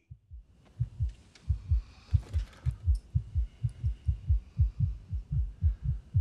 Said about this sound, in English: Why's your heart beating so fast?